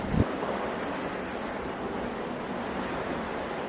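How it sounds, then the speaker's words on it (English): Strong wind rushes across the microphone in a steady roar, with waves surging beneath it on a stormy day by a cliff in Sardinia or Corsica. No one speaks. "We've got about a day of this wind and then it's dying down"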